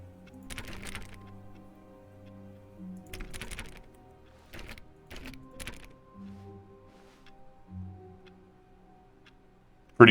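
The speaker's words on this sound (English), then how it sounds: "It's hitting the keyboard sound by just touching the desk." Keyboard typing sounds in The Stanley Parable: Ultra Deluxe, triggered by touching an office desk, come in several short clattering bursts separated by pauses over a quiet low hum.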